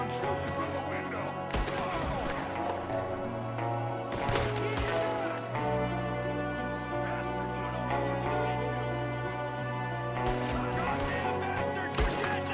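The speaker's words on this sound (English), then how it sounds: "There's another one shooting from the window." In Red Dead Redemption II, gunfire bursts from a window amid loud, layered game sound: sharp cracks in clusters, with sustained tones and sounds from the scene running beneath.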